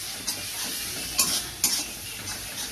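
Meat masala frying in a pan for a home-style chicken curry, with a steady close sizzle broken by three or four short scraping stirs of a spoon against the pan.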